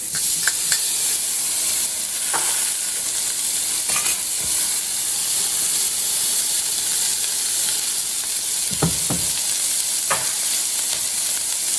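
Peppers sauté loudly in a hot pan for breakfast, a constant close sizzle and hiss with occasional scrapes and stirring knocks from a utensil, with no talk.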